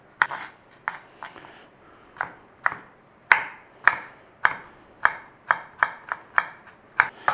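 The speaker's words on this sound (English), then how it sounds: "We've just taken those pickles out. Let's give them a little chopping up, eh?" Sharp knife chops land on a board, cutting pickles in an irregular series of about fifteen crisp strikes, close and clear, with no talking.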